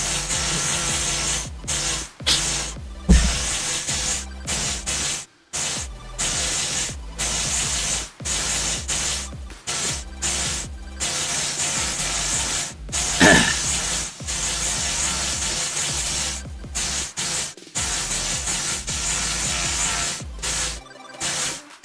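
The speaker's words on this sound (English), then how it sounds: "that weird noise you hear is my trainer" Indoor bike trainer during a Zwift ride, a steady loud hissing whir that runs continuously with brief dropouts and surges, near and dominant throughout.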